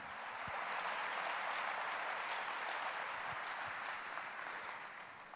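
A church congregation claps together in sustained applause, an even, fairly quiet wash of hands with a few scattered sharper claps.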